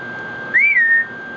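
A single brief rising-and-falling whistle from a talking pet bird, clear and fairly close, standing out over a steady background hum.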